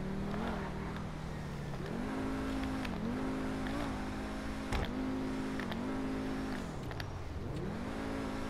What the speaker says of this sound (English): Should I drive my Lambo around? Let's just drive it around a little bit.